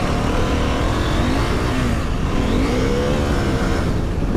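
A Husqvarna Norden 901 motorcycle accelerates with its rear wheel spinning on a slippery surface, a loud, close engine roar with rising and falling revs and wind rush throughout.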